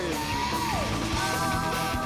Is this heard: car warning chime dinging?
no